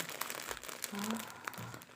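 A plastic packet crinkles in short, close bursts while someone unwraps a parcel of wool yarn, with faint speech-like sounds underneath.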